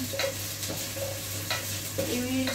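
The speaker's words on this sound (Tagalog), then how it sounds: "Mag-fried na tayo. Ayan, naglagay na ako ng onion, garlic." Onion and garlic fry in a pan for chicken adobo, a steady close sizzle broken by scraping stirring strokes, with no talking.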